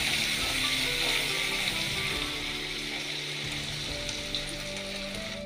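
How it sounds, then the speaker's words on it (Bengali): A paste of ground ginger, cumin, chilli and coriander fries in a wok for mutton kosha, giving a steady, dense sizzle with crackling pops that carries on evenly and close without a break. "এবার আমি মশলাটাকে কড়াইতে দিয়ে দিয়েছি, দিয়ে ভালো করে কষিয়ে নেব।"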